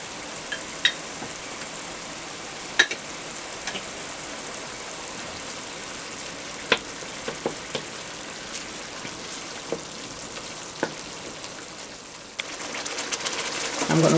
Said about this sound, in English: I'm going to fry this for 20 minutes and I will be back.